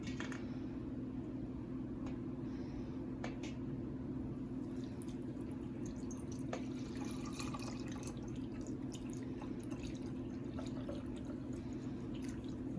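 Rendered beef tallow or lard dripping through cheesecloth into jars makes faint, scattered liquid drips and small splats over a steady low background hum, quiet and close, with no talking.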